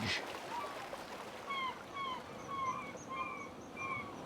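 Seagulls call in the Eastshade video game, a series of faint, short chirping cries repeating steadily at about half-second intervals over a soft, steady background hiss.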